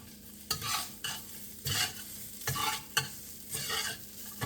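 Rice being stir-fried in a pan for Cantonese egg white fried rice, rhythmic tossing and scraping strokes about every half second over a soft background sizzle, close and fairly quiet.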